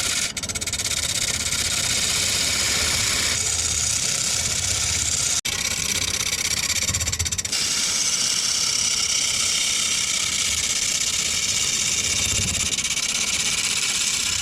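A woodturning lathe shapes a wooden wheel, running as a steady mechanical hum with a bright, gritty cutting noise that comes and goes in passes and one sharp knock midway, with no talk over it.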